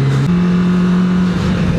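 A Kawasaki Ninja ZX25R motorcycle engine pulls away, its loud, close, steady drone stepping up in pitch after a brief moment and holding a strong hum without a pause.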